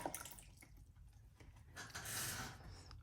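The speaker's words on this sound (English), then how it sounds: "Add some water." Water being added to a gouache paint palette in a studio: soft drips and light trickling, quiet and close, with small splashes and a brief bright pour near the end.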